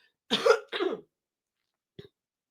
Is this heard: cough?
yes